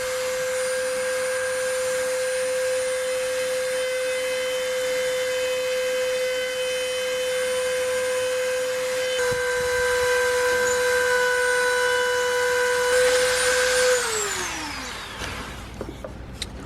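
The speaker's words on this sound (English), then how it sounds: "I get just a high-speed cutter, generally a very small one, and go around the outline of basically the Pokemon and the border" A Dremel with a small high-speed cutter carves a wooden deck box, giving a steady high-pitched motor whine with faint grinding, close and continuous, until it winds down and stops near the end.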